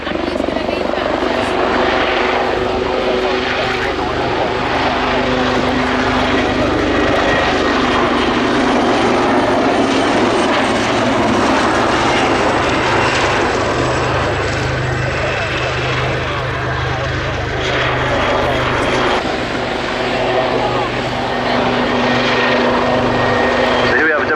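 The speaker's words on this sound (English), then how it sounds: "the Wildcat very distinctive with that T-shaped tail" A Wildcat helicopter with a T-shaped tail flies a display at an air show, its rotor and engine roaring steadily and loudly throughout while a commentator talks over it on the public address.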